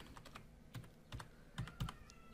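Fingers type a short search on a computer keyboard, a quick run of light clicks followed by a few sharper, heavier keystrokes, close and quiet with no voices.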